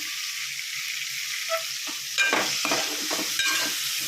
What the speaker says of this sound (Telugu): అదే చేపలు వేయించుకున్న అదే నూనెలో ఉల్లిపాయ, పచ్చిమిరపకాయలు వేయించుకోవాలి